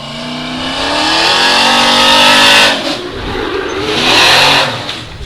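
A fire truck engine revs hard at a firefighter drill competition, loud and close, climbing in pitch, easing briefly, then surging again with a whining rev toward the end.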